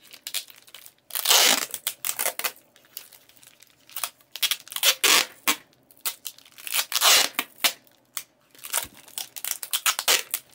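Scissors snip and crinkle through a plastic mushroom grow bag holding grain spawn, a run of close, irregular crisp cuts and rustling crackles with no talking.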